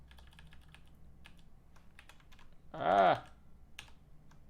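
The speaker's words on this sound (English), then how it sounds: "really need a better typing setup here" Keystrokes on a computer keyboard during a programming session, faint scattered taps around a brief spoken word that briefly dominates.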